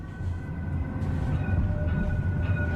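Amsterdam tram in motion heard from inside, a close, steady rumble of wheels on rails with faint tonal whine from the motors, continuous and unbroken, no talking.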